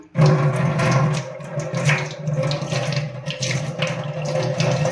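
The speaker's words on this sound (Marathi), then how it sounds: "हे जे वॉश बेसिन आहे ते बघा" Steady water running from a tap into a wash basin, a continuous close splashing rush that holds at an even level throughout.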